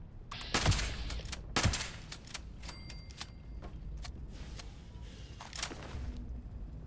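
Gunfire from shooting enemies in the video game Fallout 76 comes as several sharp, loud shots and many lighter, scattered cracks over a low background.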